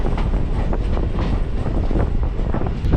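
Loud, close rumbling and rattling of a suburban train heading out from Perambur, with rhythmic clatter over wind buffeting the microphone.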